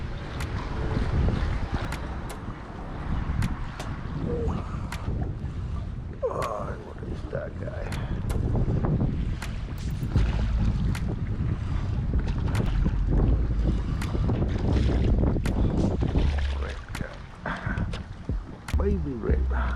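Steady wind gusts buffet a fishing boat on clear, high water on a super windy day while fishing for redfish and speckled trout, a constant roar with knocks and rustles and talk over it.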